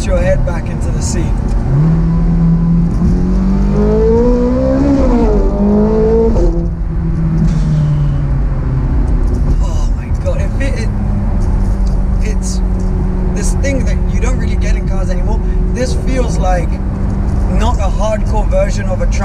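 A Ferrari 430 Scuderia V8 accelerating hard, its engine note climbing in pitch through the revs, loud and close, with a steady engine drone continuing beneath a person talking.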